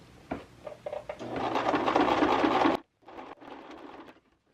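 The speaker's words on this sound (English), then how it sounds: "We're gonna sew the seam together." A sewing machine stitches a seam on a pillowcase dress, starting with a few short bursts, then running steadily and loudly for about a second and a half before stopping, followed by a shorter run.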